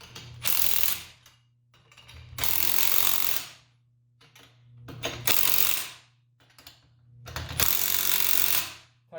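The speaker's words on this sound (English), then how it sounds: "with an impact wrench, equally and alternately" Impact wrench tightening nuts on a grooved pipe coupling housing, with four loud rattling hammering bursts of a couple of seconds each, separated by quieter pauses and a low steady hum underneath.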